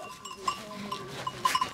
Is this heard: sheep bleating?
yes